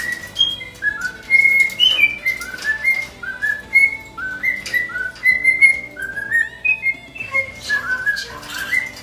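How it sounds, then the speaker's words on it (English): A pet cockatiel whistles a song, a steady run of bright, clear notes that rise and fall in a tuneful phrase. The whistling is close and prominent over a faint background, with no talking. "I've taught John how to talk, as you can see, and he can also sing lots of really good songs"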